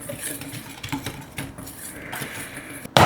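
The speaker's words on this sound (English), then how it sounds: "I gave it a good whisk." A whisk clicks and scrapes in quick, uneven strokes through a bowl of cornstarch, baking soda, baking powder and salt, close and fairly soft, ending with a sharp knock.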